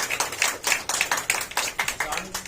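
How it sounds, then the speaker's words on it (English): A quick round of clapping at an Indian college event celebrating top JEE Main results, the claps coming in rapid, uneven bursts across a small crowd, with voices mixed in. "Big round of applause"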